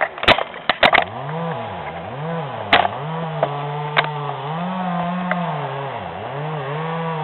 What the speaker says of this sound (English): I have to excuse the chainsaw noise.